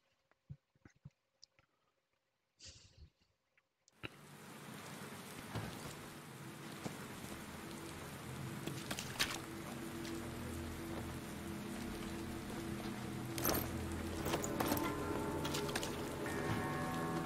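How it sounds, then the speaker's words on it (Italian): Game rain from This War of Mine begins after a few sparse clicks and a brief near-silence, then falls steadily as a dense patter on surfaces, with occasional louder drips and a faint low rumble beneath. "Come piove."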